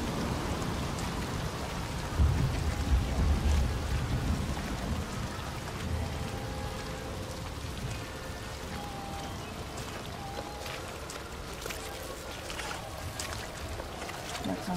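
Steady rain falls in the video game Detroit: Become Human, a continuous hiss of drops with occasional faint tones in the background, while a person talks over it throughout.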